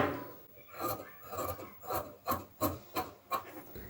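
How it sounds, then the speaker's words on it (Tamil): Scissors snip away excess blouse fabric at a tailoring table, a quick run of crisp, rhythmic cuts, about eight close, dry snips that get sharper and more regular toward the end, with no voices. "இப்போ வந்து இது அப்படியே நம்ம வந்து அடிஷ்னலாக இருக்கிறத வந்து கட் பண்ணி எடுத்துடலாம்"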